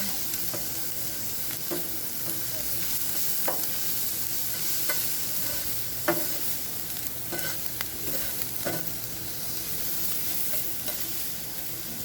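Pineapple browning in a pan over a camp stove gives a steady, close sizzle that runs throughout, broken by scattered clicks and scrapes of stirring, with no talking.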